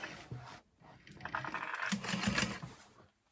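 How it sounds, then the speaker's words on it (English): A sewing machine runs a seam across the top of a fabric sling bag, with a short burst, a pause, then a steadier whirring run of stitching up close, and faint handling noise between. "I'm gonna sew across the top"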